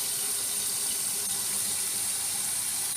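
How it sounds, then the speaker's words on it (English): A kitchen tap running cold water into a pot, a constant close hiss and gush with no pauses. "Bring it up one more time with cold water."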